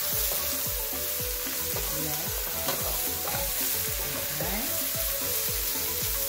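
Zucchini and onion frying in a pan, a loud, dense, steady sizzle with rapid crackling and occasional stirring scrapes, close up and without talk.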